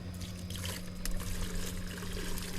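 Seawater is sprayed to flush out a plankton net, a continuous close trickling and splashing of water over a steady low hum, with no voices.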